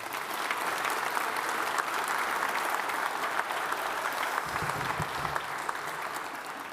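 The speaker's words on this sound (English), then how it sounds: "Big round of applause." Steady applause from a crowd, sustained and fairly even throughout, with no voices standing out.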